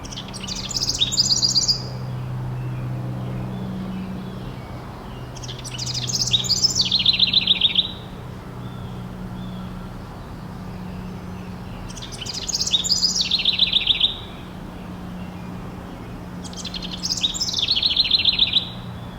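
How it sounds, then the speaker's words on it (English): Four bursts of bubbly, cascading house wren song at regular intervals, each a rapid descending jumble of notes over a steady low hum, in Massachusetts. "I did hear a house wren and managed to get a little bit of video of that"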